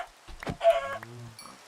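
Minecraft chicken clucking in a short burst of game sound, a few quick clucks followed by a brief squawk, fairly close and clear, with no talk over it.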